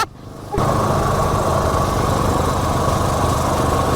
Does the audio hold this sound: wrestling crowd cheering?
no